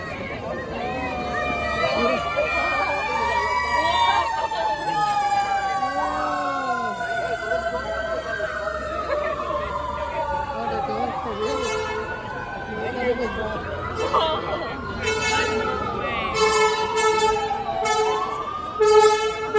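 Sirens from a fire engine, a truck and a paramedic unit wail and overlap as they arrive at a staged traffic collision rescue demonstration. Sharp horn blasts follow near the end, and someone talks over the sirens throughout.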